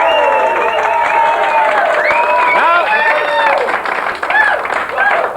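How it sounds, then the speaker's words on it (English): Studio audience clapping and cheering on a radio game show, a steady loud wash of applause throughout with voices and whoops rising over it. "You can clap when I come in."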